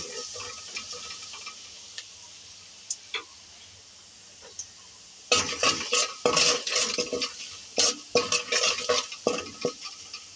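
Dried red chillies frying in hot mustard oil in a pot: a faint sizzle with a few isolated ticks, then midway a burst of close, busy stirring and scraping that continues in uneven strokes to the end.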